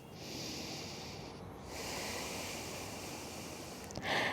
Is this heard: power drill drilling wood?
no